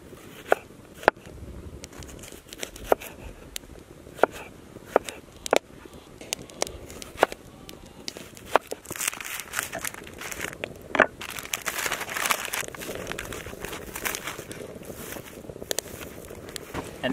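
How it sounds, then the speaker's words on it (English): Onions being sliced for a moose-meat dish cooked on a rocket stove outdoors, a run of sharp knife taps spaced unevenly, closer together later, over steady wind noise. "I'm gonna slice up some of our onions"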